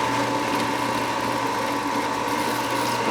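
A Shopfox W1848 drill press running with a 1/4 inch bit produces a steady, even mechanical hum with a constant whine, quiet and unbroken throughout, with no voices.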